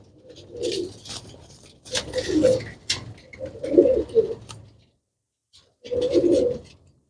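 Low, throaty pigeon coos in several bursts with pauses between, close by, with no speech.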